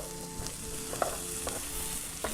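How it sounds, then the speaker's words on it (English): Apple pieces sauté in coconut oil on a grill-top pan, a soft continuous sizzle broken by a few sharp utensil scrapes and taps as they are stirred, close and without speech. "Sauteing my apples."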